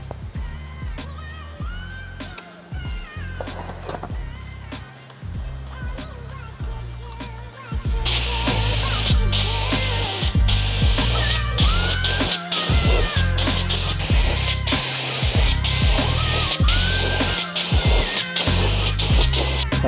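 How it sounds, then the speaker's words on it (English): A paint spray gun hisses in long, loud continuous bursts while painting a 4WD engine bay, broken by brief pauses, with clicks and handling noise between passes. "So we'll mix up some paint, start spraying"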